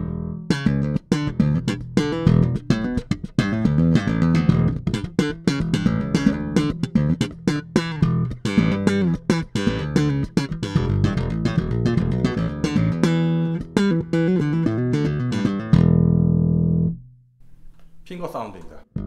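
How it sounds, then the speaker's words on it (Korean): Mattisson Series IV six-string bass with koa top and fingerboard, played through its front pickup: a busy run of plucked notes, loud and close, ending in a sustained held note that fades out. "먼저 프론트 픽업 사운드입니다."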